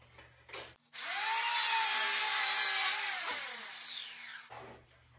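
A saw cuts through wood for a sword build in one long, loud, continuous stroke of about three and a half seconds. It starts abruptly and trails off, with a quiet workshop before and after and no talking.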